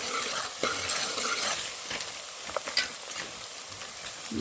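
Onions frying in oil, producing a steady close sizzle broken by scraping stirs and a few light clinks of a utensil against the pan.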